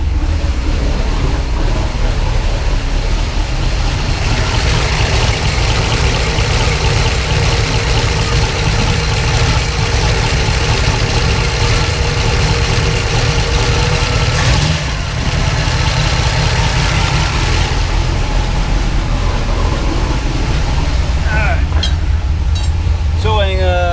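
A Trans-Am engine idles fast and loud throughout, a continuous close rumble with a steady, slightly uneven pulse and no pauses.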